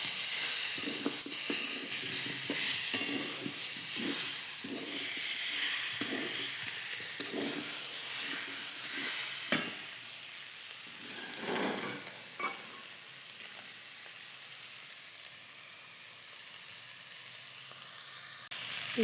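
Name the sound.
chicken sizzling while being fried with spices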